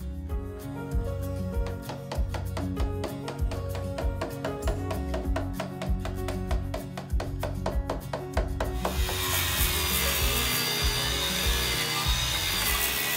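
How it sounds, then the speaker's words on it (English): A chisel scrapes and chips rhythmically at rotten, woodworm-damaged wood on an old barn beam, a fast run of close, loud strokes that gives way to a continuous harsh grinding rush, with no talk. "I have to do it with a chisel."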